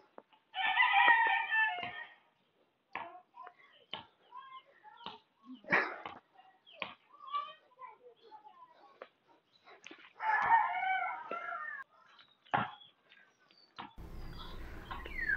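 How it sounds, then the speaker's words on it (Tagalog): Roosters crow twice, loud and close, with scattered clucks and short chirps in between, then a rumble of wind or movement at the end. "mga tilaok ng manok tsaka mga huni ng ibon"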